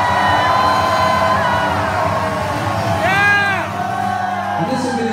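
A live concert crowd at an acoustic show in Raleigh, NC, cheering and screaming continuously to pick a song, loud and dense with whoops and yells rising and falling.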